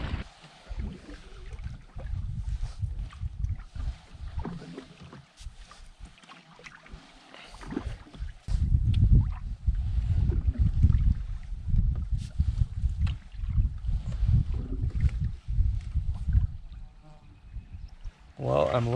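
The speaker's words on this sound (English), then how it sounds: "Now I got about a kilometer paddle to my campsite." Canoe paddling on a lake, with a soft rhythmic splash and swirl of water from paddle strokes, growing louder midway and continuing steadily, heard close under an outdoor ambience.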